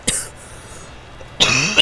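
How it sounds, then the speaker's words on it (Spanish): A single sharp cough near the start, then a louder, rougher cough or throat-clearing burst at the end, with a quiet stretch between and no talk. "Estoy con una tos hecho mierda."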